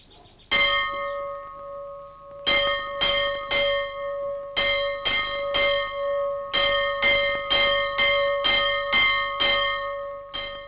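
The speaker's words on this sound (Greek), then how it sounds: "Η καμπάνα προσκαλεί στον Εσπερινό." A monastery church bell on Mount Athos rings for vespers, a run of loud, evenly spaced clangs whose bright metallic tones hang and overlap, with no talk.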